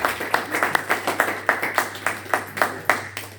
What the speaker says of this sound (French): si nous sommes tous de la maison, nous allons applaudir.